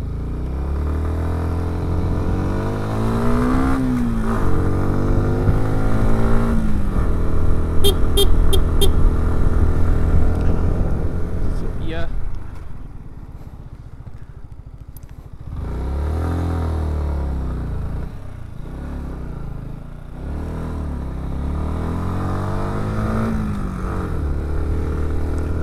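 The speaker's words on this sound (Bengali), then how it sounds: "আমার ইঞ্জিনের অবস্থা আজকে টাইট, এত ছোট সিসির বাইক এত উপরে উঠতেছে" A small-cc motorbike engine labors up a snowy Swiss mountain road, droning close by and rising and falling in pitch as it climbs, then easing off briefly before pulling again.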